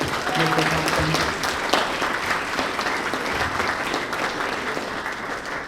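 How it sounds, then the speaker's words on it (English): An audience at a martial arts school's spring black belt promotion applauds the staff, a steady dense wash of clapping from a full room that holds for several seconds and tapers slightly at the end. "let's give all the staff a big round of applause for working so hard to make this happen"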